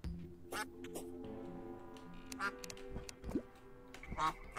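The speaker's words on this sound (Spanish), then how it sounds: "Es un pato, ¿sabes?" A duck quacks in Terraria, a few short faint calls scattered among other quiet game sounds and clicks.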